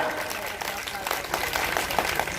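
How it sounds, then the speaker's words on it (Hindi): A crowd at a Hindi poetry gathering during the Ganga Mahotsav festival in Katra Saadat Ganj claps in a continuous patter, with a voice speaking over it. "ताली बजा रहे तो अच्छे से बजाइए ना"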